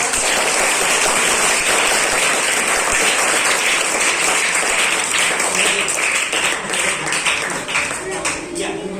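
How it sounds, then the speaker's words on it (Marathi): Audience clapping loudly for a celebrated person at a gathering, a dense sustained applause lasting several seconds and thinning slightly toward the end. "मी तुम्हाला सगळ्यांना गायत्रीला शुभेच्छा देण्यासाठी पुन्हा एकदा जोरात टाळ्या वाजवतात."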